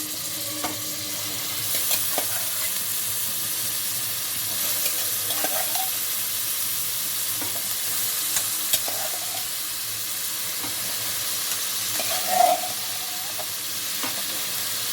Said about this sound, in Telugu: ఉడికించుకున్న కాలీఫ్లవర్ ముక్కలు వేసుకోవాలి.